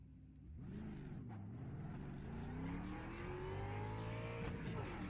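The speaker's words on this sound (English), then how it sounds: "This is a really nice car to drive, actually." A race car engine in a racing video game drones steadily, its pitch rising and falling through gear changes and throttle shifts, held at a moderate, continuous level throughout.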